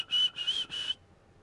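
Person whistles three short, high, shrill notes in a row during a Firewall Zero Hour match, then silence, close and moderately loud.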